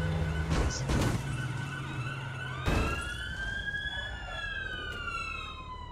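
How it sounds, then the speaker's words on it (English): A police car siren in the video game APB Reloaded wails and sweeps up and down in pitch, fairly close, with a couple of sharp thuds near the start and no talking. "Can't you see we have our sirens on?"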